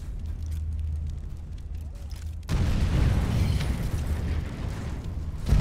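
A Sniper Elite 4 explosion, a sudden loud boom at mid-clip that gives way to a sustained rumbling, crackling roar over a low background hum.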